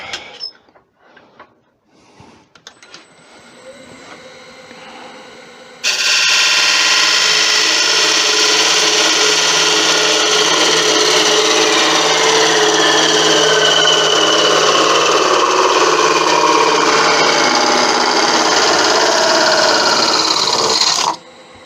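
A wood lathe parts off a turned bamboo root piece. After a few quiet knocks, a loud, steady high-pitched cutting hiss starts and runs unbroken for about fifteen seconds before stopping abruptly.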